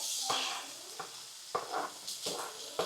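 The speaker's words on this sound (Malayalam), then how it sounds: "ഓണിയൻ ചേർത്ത് കൊടുക്കാം." Onion added to butter in a pan for a pasta dish, sizzling steadily throughout with several sharp scrapes and stirring clatters from a utensil against the pan, close and moderately loud.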